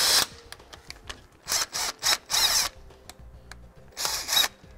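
A power tool with a 13 mm socket drives an anti-sway bar bolt on a 2016 Ford E-Series, sounding as short, sharp whirring bursts that start and stop repeatedly, close, with quiet clicks in the gaps.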